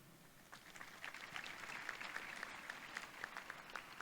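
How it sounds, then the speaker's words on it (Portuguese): Audience applause for Professor Samara at the opening ceremony of an academic congress, a steady, faint wash of many hands clapping from a distance, continuous throughout. "Uma salva de palmas, professora Samara."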